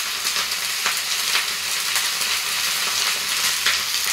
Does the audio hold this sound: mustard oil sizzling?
yes